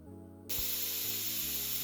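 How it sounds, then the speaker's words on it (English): A sudden loud hiss of steam bursts from a pressure cooker valve and keeps jetting steadily, close up, over a low mechanical hum. "steam starts coming out of the pressure valve on top"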